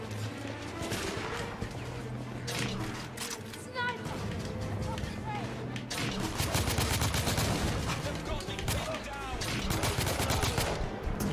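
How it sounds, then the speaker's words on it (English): Rapid weapon fire in the video game The Order 1886, including grenade launcher shots, dense bursts of repeated blasts and gunfire throughout, growing heavier toward the end, with game dialogue and voices mixed in. "That's like a grenade launcher."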